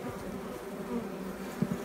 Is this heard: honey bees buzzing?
yes